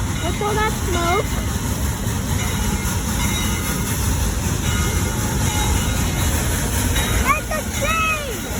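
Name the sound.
train passing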